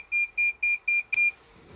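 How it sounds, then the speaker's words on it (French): An iSmartGate-controlled garage door gives a sequence of five short, even electronic beeps in a regular rhythm, clear and fairly close, followed by a brief click and quiet room tone. "vous entendez le bip derrière la porte qui s'ouvre"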